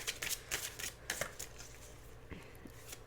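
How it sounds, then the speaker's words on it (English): A tarot deck is shuffled close up, a few quick riffling bursts of cards in the first second and a half, then softer scattered card taps in a quiet room without talk. "So let's give this a shuffle."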